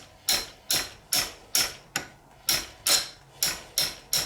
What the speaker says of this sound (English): grab the hammer, we'll do the tap